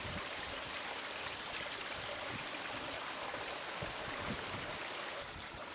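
A mountain stream in the Mourne Mountains rushes and trickles while a bottle is filled from it. The water makes a steady, close, broadband splashing flow throughout.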